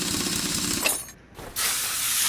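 Spray cleaner hissing on a tire in Car Mechanic Simulator 2021, a loud steady spray that briefly drops off, then resumes strongly.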